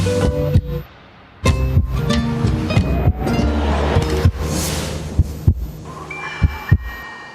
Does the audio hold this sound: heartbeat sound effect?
yes